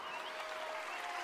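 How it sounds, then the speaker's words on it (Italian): Applause in the Paper Mario Color Splash video game: a brief, soft, even wash of clapping with no voices over it. "Un bel applauso al mio valletto."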